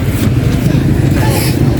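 A loaded motorized tricycle's engine rumbles loud and close in a heavy, steady low drone, with voices talking over it.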